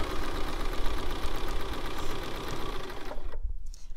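A sewing machine stitching a fabric book runs steadily at close range with a fast, even mechanical rhythm, then stops abruptly near the end.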